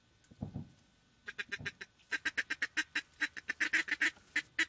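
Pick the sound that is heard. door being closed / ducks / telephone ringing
ducks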